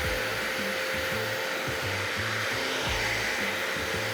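A Bissell cleaning machine runs with a constant loud whine and airy rush, while a faint rhythmic scrubbing or rubbing repeats underneath.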